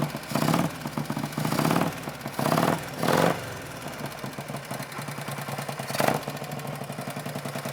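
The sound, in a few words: Harley-Davidson Panhead motorcycle engine running after one kick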